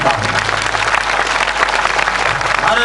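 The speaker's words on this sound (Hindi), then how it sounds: "मंच पर बैठे हुए लोग इतनी जोर की तालियां बजें" Loud, sustained applause from a large audience at an outdoor political rally in Amethi, dense clapping filling the whole stretch with steady crowd noise throughout.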